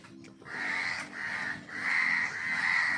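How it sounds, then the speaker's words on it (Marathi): Crows caw several times in a row, harsh drawn-out calls that sound fairly close, with no other voices. "आज कावळे खूप आयले"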